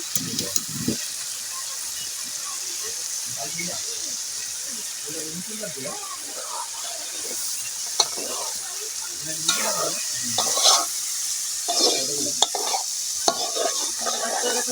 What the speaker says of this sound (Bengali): এখানে দিয়ে দিচ্ছি আটটি ডিম